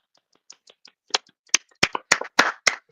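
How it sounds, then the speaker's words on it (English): A small group of people clapping, starting with a few sparse, quiet claps and building into louder, denser, uneven clapping, cheering a New York Giants football win. "Clap it up."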